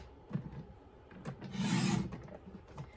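Paper trimmer blade sliding through cardstock while trimming the middle insert of a tunnel card to just under 4 1/4 inches; a soft rasping rub swells for about half a second between quieter scrapes, close and fairly faint.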